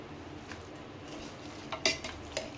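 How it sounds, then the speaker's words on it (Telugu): A spoon clinks and scrapes against a metal pot while biryani masala is stirred into raw chicken, with light, irregular taps and scraping over quiet kitchen background. "ఈస్టర్న్ బిర్యానీ మసాలా వేసినాక కలపాలి బాగా"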